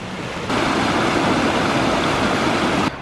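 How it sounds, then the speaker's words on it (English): Small waterfall beside a resort trail in the Poconos, a steady, loud rush of falling water that swells in after a quieter start and holds evenly before easing at the end. "There's a cute little waterfall. It's very relaxing to listen to."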